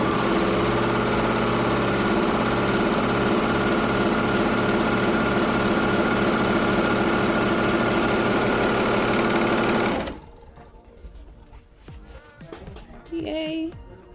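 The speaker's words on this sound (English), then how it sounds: "this is a serger machine" A Bernette serger sewing a test seam runs at a loud, steady high-speed mechanical whir with fast rhythmic stitching for about ten seconds, then stops abruptly, leaving quiet handling noises.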